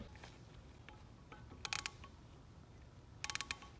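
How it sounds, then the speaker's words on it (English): A digital micrometer's ratchet thimble closes on a crankshaft main journal during a Honda K-series engine build, giving two short bursts of four or five crisp clicks. They are close and quiet over a low room hum. "So we're gonna grab our digital mics and go ahead and measure out this journal"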